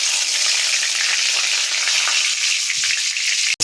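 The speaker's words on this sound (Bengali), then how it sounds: "তেলটা গরম হয়ে গেলে সর্বপ্রথম এতে যাবে পাঁচফোড়ন" Panch phoron, a five-spice mix, frying in hot oil for a vegetarian sabji: a loud, continuous, crackling sizzle that holds steady throughout and cuts off abruptly at the end.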